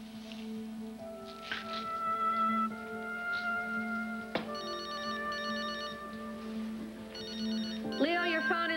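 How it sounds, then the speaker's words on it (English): A telephone ringtone sounds in a quiet room, its repeating electronic chirps coming in short bursts over a steady low hum. "your phone is ringing"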